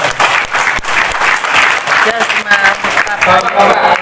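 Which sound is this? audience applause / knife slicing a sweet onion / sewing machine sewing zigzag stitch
audience applause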